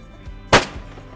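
A single loud shotgun blast from a Beretta A300 Outlander sporting gun with a cylinder choke, fired at a quartering clay target, a sharp close crack that cuts through a quiet background and fades quickly.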